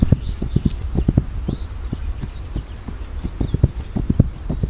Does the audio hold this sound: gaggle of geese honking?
no